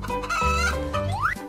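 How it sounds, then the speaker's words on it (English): Chicken clucking loudly and close, a run of several sharp, rising clucks and squawks heard alone. "chicken"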